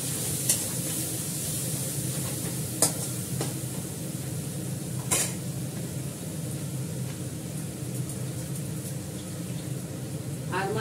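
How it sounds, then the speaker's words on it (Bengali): Onions fry in a pan with a steady soft sizzle, broken by a few sharp clinks of stirring against the metal. "পেঁয়াজটা ভাজা ভাজা করে নিই"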